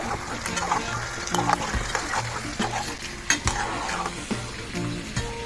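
Chicken curry in a pot is stirred with a spoon, giving a steady sizzle broken by irregular scrapes and knocks against the pot, with faint voices or sounds in the background.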